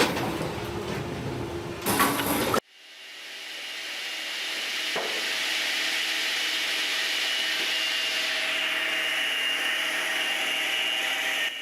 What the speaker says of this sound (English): the splitting process is started automatically and stopped when there are no more logs left